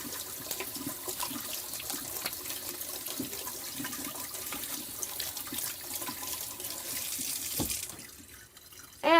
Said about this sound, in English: And then add some water. Wash all that soap off.